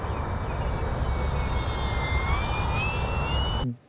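An FMS 1400mm F4U Corsair RC plane flies past with a steady, loud electric motor and propeller whine, the pitch slowly rising and shifting as it passes before cutting off abruptly.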